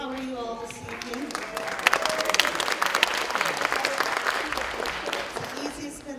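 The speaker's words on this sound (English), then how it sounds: "It's the easiest bit of applause we got." An audience claps steadily for several seconds, a dense wash of applause with a voice speaking over the start.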